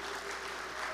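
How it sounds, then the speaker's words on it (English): Steady applause from a Sunday service audience, a dense wash of clapping hands filling the brief moment. "let's give them a round of applause"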